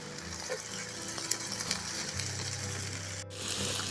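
Young onions frying in a pan with potatoes and mushrooms, a steady moderate sizzle as they are stirred, with a brief scrape near the end and no voices.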